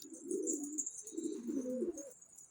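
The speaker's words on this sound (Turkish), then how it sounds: "Eşimin en sevdiği kuş." A dove coos in soft, low, rolling phrases, repeated twice, close by with a faint high hiss in the background.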